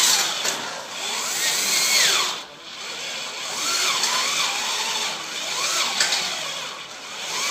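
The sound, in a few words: drill boring a clearance hole in aluminum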